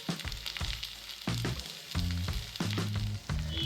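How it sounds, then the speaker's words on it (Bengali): Sago being stir-fried with mixed vegetables, sugar, fried peanuts, cashews and raisins in a pan over a medium gas flame, a steady sizzle broken by several scraping stirs of the spatula, close and fairly loud. "গ্যাসের ফ্লেমটা মিডিয়ামে রেখে সাবুর সঙ্গে সব সবজিগুলো খুব ভালো করে মিশিয়ে নিতে হবে"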